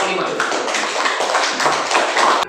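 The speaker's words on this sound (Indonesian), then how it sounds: "Oke, beri tepuk tangan untuk kelompok" A classroom of students claps for a student group after its presentation, brisk and even applause lasting a couple of seconds, then breaking off abruptly.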